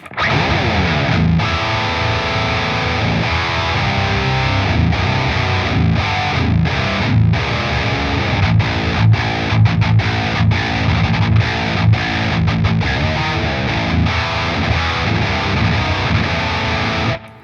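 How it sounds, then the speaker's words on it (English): Baritone guitar through a BOSS VX-100 on high gain with preamp focus engaged, a loud, dense distorted riff with chugging palm-muted chords and short choppy gaps, no talking. "this is the sound of the VX-100 on gain 1 with the preamp focus in"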